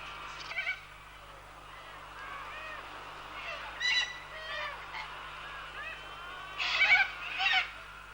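Waterbirds calling at a wetland breeding refuge near Darwin in Australia's Top End, loud honking calls in scattered bursts over a low steady hum.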